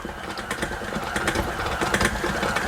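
An electric mixer beats a honey almond nougat mixture, producing a steady, close whirring drone with fast rhythmic rattling from the whisk for the whole stretch.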